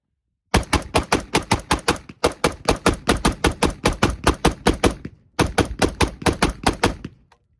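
A rifle with a 12.5-inch Hodge-barrelled upper fired outdoors in rapid strings, three bursts of sharp, loud, evenly spaced shots separated by brief pauses, each crack with a short ringing tail.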